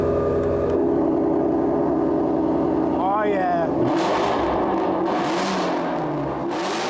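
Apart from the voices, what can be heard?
sports car exhaust revving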